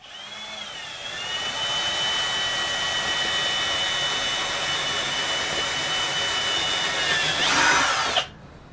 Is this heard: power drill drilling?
yes